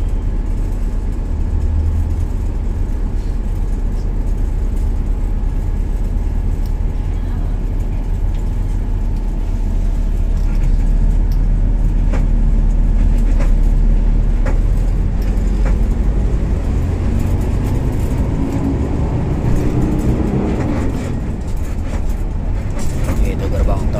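A city bus on the Blok M to Bogor route rolls through the Cililitan toll gate in Jakarta. A loud, steady engine drone and road rumble fill the cabin without a break, with faint murmuring inside.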